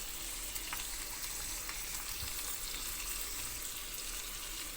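Onion, capsicum and corn fry in a pan for white sauce pasta, giving a steady, faint, even sizzle with soft crackles and occasional light stirring clicks, with no voices.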